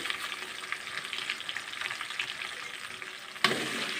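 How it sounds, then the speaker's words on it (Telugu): Sesame seeds fry in a hot pan with a continuous crackling sizzle and light stirring scrapes, then a sudden louder burst of sizzling near the end. "నువ్వులు వేసుకొని ఒక్క నిమిషం పాటు వేయించుకోవాలి"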